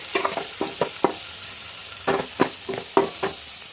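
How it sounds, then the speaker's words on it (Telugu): A tempering of onions, curry leaves, green chillies, turmeric, cumin and mustard seeds fries in a pan, a soft sizzle broken by a string of quick, clear spoon scrapes and taps. "బాగా ఫ్రై అవ్వాలి."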